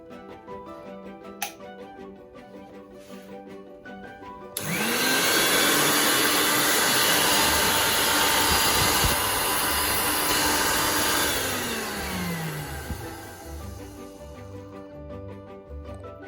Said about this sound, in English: So this is a mixer grinder. Now, to show that this is working.